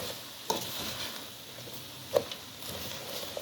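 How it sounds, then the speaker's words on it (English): Seasoning being stirred into cabbage in a pot, heard as a soft continuous scraping and sizzling with a couple of sharper spoon knocks against the pot, fairly quiet and with no voices. "I'm stirring all the seasoning into the cabbage."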